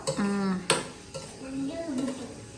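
Raisins roasting in a home kitchen pan, stirred with a metal utensil: sharp scrapes and clinks against the pan amid a faint sizzle, close and fairly loud, with no speech.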